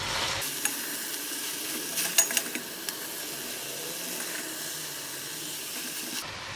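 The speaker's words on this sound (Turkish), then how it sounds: "Evet şimdi semizotumu ekliyorum. Yavaşça karıştıralım." Purslane being stirred as it fries in a pot, giving a loud continuous sizzle and hiss with a cluster of spoon clinks and scrapes partway through, close up and without voices.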